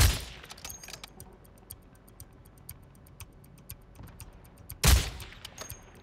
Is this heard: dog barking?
no